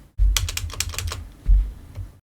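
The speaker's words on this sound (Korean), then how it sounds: "키보드의 컨트롤 엔터를 눌러도 똑같이 실행이 됩니다" A computer keyboard clatters with a quick run of close, crisp keystrokes, including a Ctrl+Enter press, then a brief pause and one or two more taps, with no talking.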